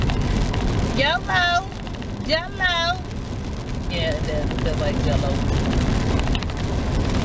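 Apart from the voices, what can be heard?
heavy rain falling outside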